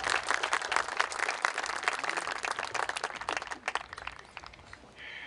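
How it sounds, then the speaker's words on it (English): Audience applause at a high school senior awards ceremony, steady dense clapping from a crowd for about five seconds before it thins out and fades near the end. "So you guys can applaud if you'd like,"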